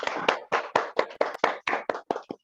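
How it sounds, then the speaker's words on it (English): About ten sharp claps come close and evenly spaced, as a webinar audience applauds a speaker after a talk. "Let's all clap for Dr. Mugera for such an excellent talk."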